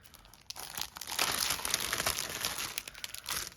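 Plastic wrapping crinkling and crumpling as a Hachette Disney cross stitch magazine, issue 22, is unwrapped, close and continuous with a louder stretch in the middle and a final burst of rustling.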